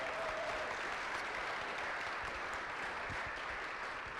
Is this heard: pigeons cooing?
no